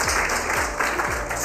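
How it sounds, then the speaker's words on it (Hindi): A group of street children claps for a child who has just recited a poem at an Eid gathering, a short burst of close, dense applause. "तालियां बजा देते हैं इनके लिए।"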